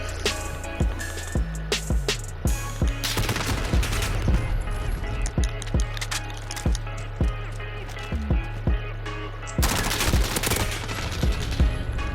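Rapid automatic gunfire from a Call of Duty match: dense bursts of shots and longer sustained volleys, loud and close, with a short pause before a heavy final burst.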